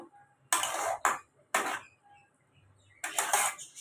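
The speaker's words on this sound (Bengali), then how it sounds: "পনিরগুলো দিয়ে আমি ভালো করে মশলাটা মিশিয়ে নেব।" Metal spoon scrapes and clatters in a pan in several sharp bursts with short pauses, close and distinct, as fried paneer is stirred into a butter masala.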